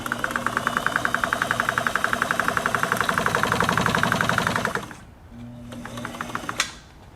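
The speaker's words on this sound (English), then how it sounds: "Definitely hold your tail on a chain stitch machine" An Eldredge automatic chain stitch sewing machine runs in a fast, even mechanical clatter for about five seconds. It then stops abruptly, leaving a low hum and a few faint clicks.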